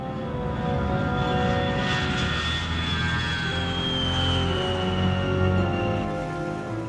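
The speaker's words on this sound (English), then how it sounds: "The transport aircraft delivered both men and material." Transport aircraft engines drone steadily in flight, a loud, continuous propeller hum with a sustained tonal whine and no voices.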